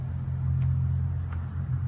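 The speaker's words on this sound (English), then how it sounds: "This is a stunning 1971 Dodge Charger RT, finished in the correct Hemi Orange." A 1971 Dodge Charger R/T with a 440 Magnum V8 rumbles at a steady, deep idle close by, a low throbbing drone with no talk over it.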